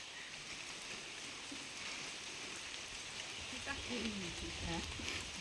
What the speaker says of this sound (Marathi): आता संध्याकाळचे 6 वाजलेत आणि पाऊस पण बारीक बारीक पडतोय